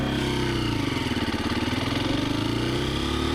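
A Husqvarna FE350S motorcycle engine burbles close by at low revs, a steady pulsing thump as it slows to a stop and drops into first gear, with no talking over it.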